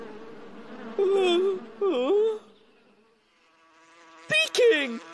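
Angry swarming bees in a Boonie Bears cartoon about a honey hive, with loud wavering buzzes in two surges, a pause, then another buzzing burst.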